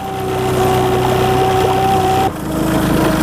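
A Sedna 30 Animusz outboard motor runs steadily after starting, a loud close droning hum with a steady pitch that drops briefly near the end as the load changes, with no voices.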